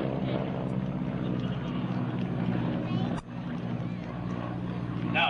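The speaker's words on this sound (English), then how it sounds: "Nose comes down on both aircraft." GEICO Skytypers aircraft at an air show give a loud continuous propeller-engine drone as they pass overhead, heard under a public-address announcer's commentary.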